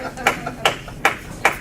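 One audience member applauds alone, giving four evenly spaced, slow, close claps with a voice audible beneath them.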